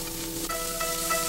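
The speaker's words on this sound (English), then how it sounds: "hot, and sizzling food." Steady, crackling sizzle of food frying on a hot teppanyaki griddle, with faint tonal clinks and hum in the background; no voices.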